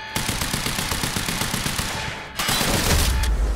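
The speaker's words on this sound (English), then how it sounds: "He's carrying a machine gun." Rapid bursts of machine gun fire ring out from a video game, loud and continuous across the whole stretch, with a brief gap before an even heavier, denser volley resumes.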